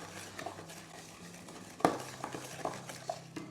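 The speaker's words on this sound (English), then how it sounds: "I want to beat the sugar, or the two sugars and the butter together." Sugar and brown sugar are beaten together with butter in a bowl, a soft continuous stirring and scraping with occasional clinks of the utensil against the bowl, close and quiet, no talking.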